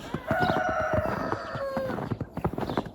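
A rooster crows loudly and close by while hens cluck in a busy, overlapping chorus around it, in a snowy farmyard.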